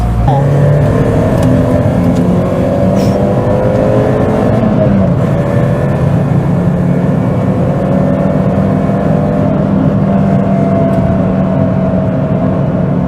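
A Peugeot 206 GTI engine drones steadily and loudly throughout, its pitch sliding and wavering as the throttle eases off, with a voice faintly underneath.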